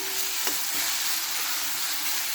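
Onions frying in a pan for an egg roast, with steady sizzle and the scrape of a spoon stirring through them, close and continuous with no talk.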